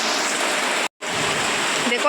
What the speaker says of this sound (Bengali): আজ প্রচণ্ড বৃষ্টি দিচ্ছে, সকাল থেকেই প্রচণ্ড বৃষ্টি।